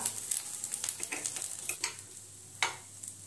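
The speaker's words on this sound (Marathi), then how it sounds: "आता आप्पे आपण पलटी मारून घेऊया" Varai (barnyard millet) appe frying in oil in an appe pan as they are flipped over, giving a steady close sizzle broken by light scraping clicks and taps, with no talking.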